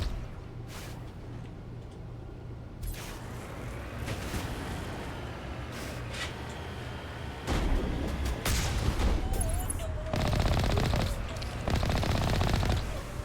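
Gunfire from a gun in the video game Mass Effect 1 during a fight with pirates, with bursts of rapid shots and booms over game ambience, growing louder and denser toward the end, with no talk.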